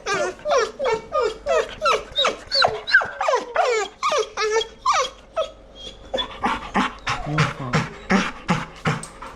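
A dog whining close and loud in a rapid, insistent series of high, wavering whimpers, around twenty short cries in quick rhythm with brief gaps, alone without talk.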